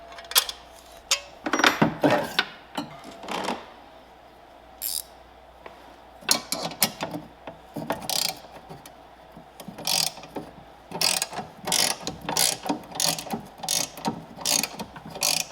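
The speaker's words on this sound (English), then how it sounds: "I'm gonna have to put a wrench on it." Hand wrench ratcheting on a BMW exhaust tip bolt during removal, with bursts of rapid clicking separated by short pauses and occasional metallic knocks, close and fairly loud with no talking.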